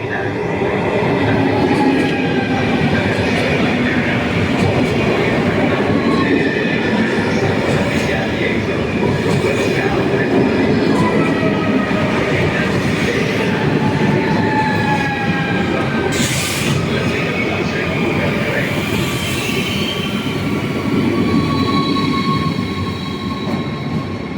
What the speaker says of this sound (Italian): Intercity 588 di Trenitalia, proveniente da Roma Termini e diretto a Trieste Centrale, delle ore 16, è in arrivo in ritardo